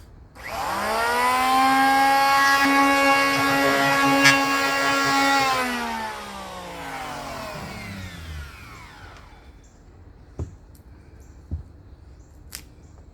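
A power planer spins up with a loud, high whine, running steadily for several seconds on a firewood cutting board blank, then winds down, followed by a few sharp clicks.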